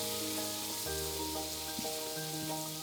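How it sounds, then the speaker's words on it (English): Steak pan being deglazed with brandy: a steady, even sizzle and hiss from the hot pan, running continuously beneath prominent background music. "And now we start seeing that we are deglazing the pan."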